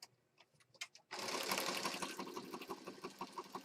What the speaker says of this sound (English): We're stitching.